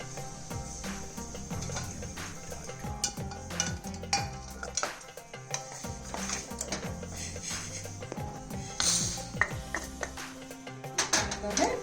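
Roasted toor dal and onion are scraped and stirred out of a frying pan onto a plate, giving rapid metallic clinks and scrapes of spoon on pan over a faint sizzle, with a voice talking in between.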